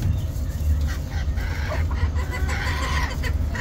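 Hens and a rooster, including Kuwaiti and Spanish breeds at a Baghdad animal market, cluck and call continuously close by over a dense farmyard background of other birds.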